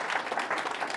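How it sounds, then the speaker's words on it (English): Brief, dense burst of audience clapping at a local history society talk, steady and moderately loud, heard alone. "Big round of applause for Lisa Kelly."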